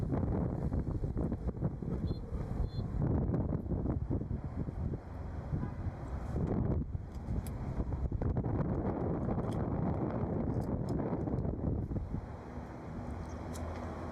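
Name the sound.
wind blowing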